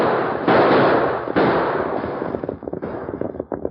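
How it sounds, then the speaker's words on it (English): Loud bursts of gunfire from an old 1940s Western radio drama crack close and harsh, several shots overlapping early, then a quicker series of sharper pops fading out. "Use your guns, Tonto."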